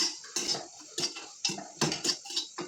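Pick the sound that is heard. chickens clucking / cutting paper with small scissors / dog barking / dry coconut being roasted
dry coconut being roasted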